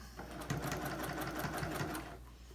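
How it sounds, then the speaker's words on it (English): A sewing machine back-stitches fabric for a face mask, a quick close rattling burst of rapid stitches that runs for about two seconds with no talk over it. "So I'm going to stitch a little, back stitch."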